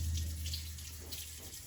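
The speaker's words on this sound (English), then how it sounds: "So I'm gonna wash my hands again." Tap water runs steadily into a sink while hands are washed, a continuous close splashing hiss under low hum, with no talking.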